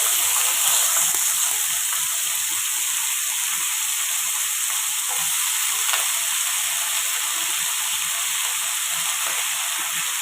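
Ridge gourd and pumpkin fry in hot oil with cumin and bay leaf, giving a steady, close, continuous sizzle and hiss that holds evenly from start to finish.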